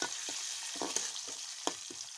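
Onions fry in hot oil with cinnamon, cardamom and bay leaf, giving a constant close sizzle broken by several soft scraping stirs of a spoon in the pan.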